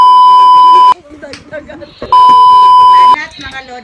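A kitchen timer buzzer sounds twice, each a loud, flat, sustained electronic tone about a second long, with people talking and clattering in the short gap between the two buzzes.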